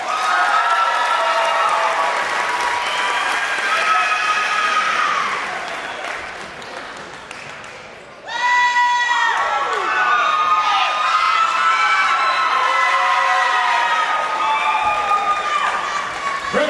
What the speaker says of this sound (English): Let's give these bunch a round of applause.